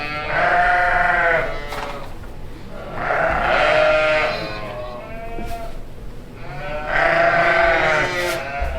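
Sheep and lambs bleat loudly in a crowded barn on a cold day, three long drawn-out calls with short quieter gaps and a low barn murmur between them.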